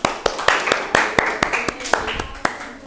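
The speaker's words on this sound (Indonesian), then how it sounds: "tepuk tangan untuk Sultan." Classroom applause during a microteaching lesson: a small group of students clapping in a fairly regular rhythm, sharp close hand claps repeating steadily for a few seconds.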